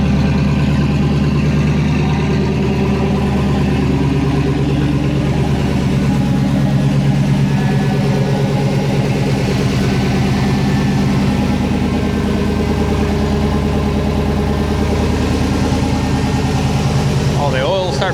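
An LS V8 swapped into a 1999-2006 GMC Sierra truck running for the first time, idling loud and steady close by with a low rumbling drone throughout, a voice talking over it.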